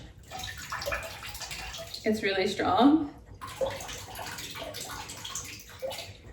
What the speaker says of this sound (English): I like to fill the sink with water.